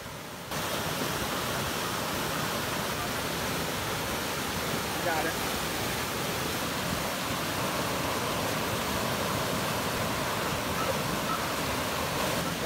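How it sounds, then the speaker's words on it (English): A flash flood and debris flow rushes down Hermosa Creek in Colorado, making a loud, steady broadband roar of churning water that holds unbroken from start to finish. "flash flood and debris flow down Hermosa Creek, Colorado on July 17th"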